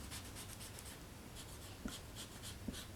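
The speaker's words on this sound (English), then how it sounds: "Now what you want to do is come in and erase all the lines" Pencil lines being erased from cardstock, a rapid back-and-forth rubbing scratch in quick repeated strokes, close and fairly quiet, with a few light taps against the paper.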